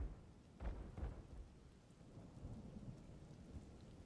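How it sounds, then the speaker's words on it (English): Rain falls steadily in The Legend of Zelda: Tears of the Kingdom, a soft continuous hiss, while low thunder rumbles roll in twice near the start and then fade back into the quiet downpour. "Frickin' rain is back."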